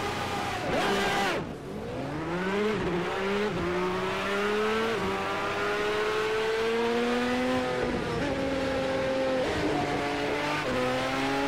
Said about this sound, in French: c'est parti avec cette Lamborghini Senza